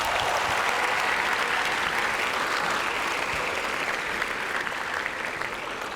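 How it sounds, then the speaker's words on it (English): A large audience applauds at a university welcoming ceremony at Stellenbosch, with sustained, dense clapping that fills the hall at a steady level and eases off slightly near the end. "Another round of applause."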